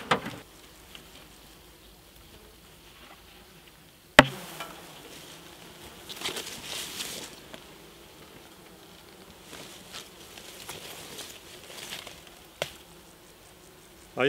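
Honey bees buzz around an open hive super being checked for honey without smoke, a faint, thin hum beneath sharp knocks and scraping of frames and hive tools.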